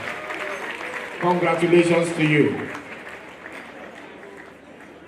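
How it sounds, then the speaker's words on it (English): Audience applause at a real estate developers association presidential investiture ceremony in Nigeria, a steady crowd clapping that swells briefly as someone speaks over it, then fades to a softer patter. "Can we make the applause louder,"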